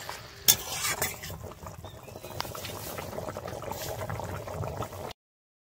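Water poured into a pot of potatoes fried with spices for an egg omelette curry, then a soft continuous bubbling simmer with light stirring and sizzling, starting with one sharp clink.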